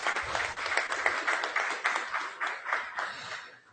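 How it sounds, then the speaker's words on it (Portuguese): Audience at a public hearing breaking into a round of applause, a dense, steady patter of many hands clapping at moderate distance. "Uma salva de palmas pro"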